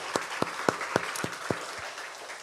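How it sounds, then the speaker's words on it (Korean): Worshippers at a Korean Sunday church service give a short burst of applause, about seven evenly spaced claps fading out within a couple of seconds, with no talking. "우리 하나님께 다시 한번 영광의 박수 올려드리겠습니다"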